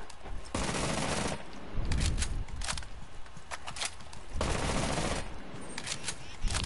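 Automatic gunfire in Rainbow Six Siege, several sustained bursts of rapid shots with short pauses between them, loud and close, with a voice speaking briefly along with it.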